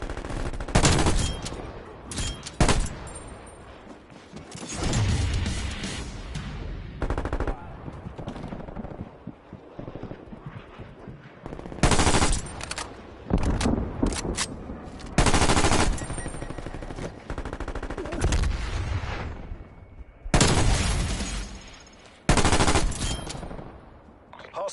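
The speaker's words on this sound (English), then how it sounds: "Hostile sentry turret" Sustained bursts of rapid automatic fire from a hostile sentry turret in a video game, loud and close, coming in repeated volleys separated by short pauses.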